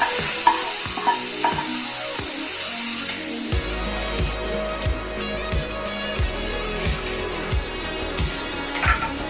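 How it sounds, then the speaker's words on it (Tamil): Hot sizzling tempering is poured into a tomato and moong dal soup, giving a loud hiss and crackle that gradually settles into intermittent spattering pops. "இப்போ இந்த தாளிச்சதை இதில் ஊற்ற போகிறேன்."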